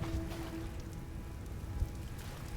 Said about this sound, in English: I can hear some rain.